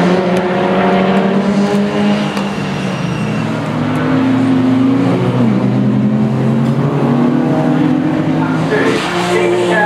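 Racing cars, among them a Citroen Saxo, circulate closely on a circuit out of a hairpin, with a steady loud engine drone and shifting revs throughout, a commentator's voice over the top.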